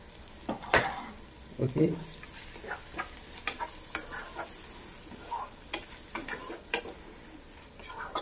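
Tomato and onion for chicken curry fry in a pan as a spoon scrapes and stirs in uneven strokes over a soft background sizzle, with one short spoken word early on.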